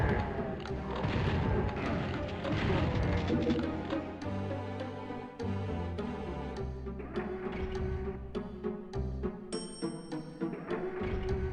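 Super Shotgun blasts in PS1 DOOM, a series of heavy booming shots in quick succession over loud game music, with sharp reports punctuating the dense background.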